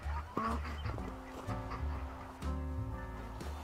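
Chickens on a wintry homestead in the snow cluck and murmur in short, overlapping calls, fairly close and steady throughout the few seconds.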